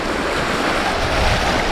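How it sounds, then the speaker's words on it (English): Strong wind gusting about 18 miles per hour across San Luis Reservoir buffets the microphone, a loud, steady roar with a wash like surf and no voices. "the wind is picking up. It's blowing about maybe 18 miles per hour right now."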